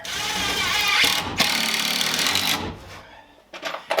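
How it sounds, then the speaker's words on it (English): Screws driven into wall framing with a power driver while finishing a solar inverter room, a continuous whirring run lasting several seconds and then stopping, followed by a few short knocks close by. "I'm just putting enough screws in it for it to hold itself."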